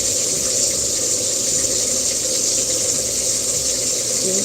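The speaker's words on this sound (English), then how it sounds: "I turn the water on so it'll be noisy." Water runs steadily from a tap for washing kief, a constant, fairly loud rushing hiss with no talking.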